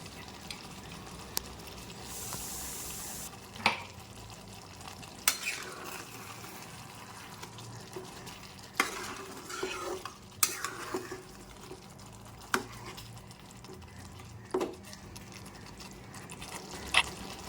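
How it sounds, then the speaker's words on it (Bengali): Chicken for a lemon chicken dish is stirred in a pan after roasted spice powder is sprinkled over it, giving intermittent scrapes and sharp clinks of a utensil against the pan with quiet pauses between, no voices. "সেই ভাজা মশলার গুঁড়োটা আমি ছড়িয়ে দিচ্ছি দিয়ে ভালো করে আমি মিশিয়ে নেবো"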